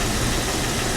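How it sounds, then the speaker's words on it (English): A car engine with misfire trouble runs steadily throughout, a loud, dense mechanical rumble with a rough, uneven undertone of knocking and no voices over it. "It's like a knocking sound"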